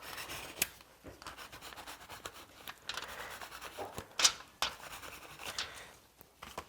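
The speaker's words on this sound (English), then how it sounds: "this is like just a tool that has ridges on it, and I can make marks" A ridged tool scratches marks into a flattened aluminum can, producing soft intermittent rubbing and scraping strokes, close and quiet, with a few sharper scratches.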